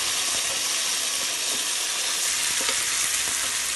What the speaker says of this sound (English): Then add the marinated raw banana, slowly into the kadai.